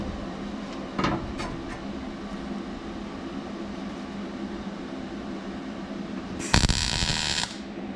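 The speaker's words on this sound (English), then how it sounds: "this will get just a little bit of hammer work to roll this edge around" Steel panel edge on a 1974 Ford Bronco being rolled over with a hammer: a few sharp metallic strikes early on, then a harsher, louder burst of clanging and grinding near the end, over steady shop background noise.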